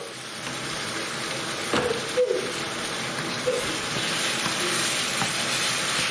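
Continuous hissing sizzle of chicken rogan josh curry cooking in a hot frying pan, steady and fairly close, with a few faint scraping clinks.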